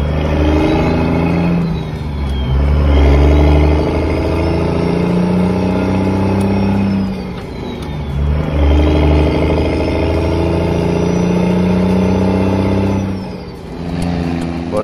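Loud truck engine in an online truck driving game, revving up through gears in two long rising pulls with a dip between, a steady droning rumble close and alone.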